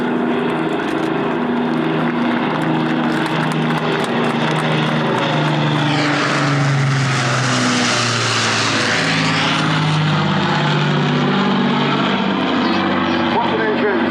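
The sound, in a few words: Avro Lancaster PA474 engines roaring on approach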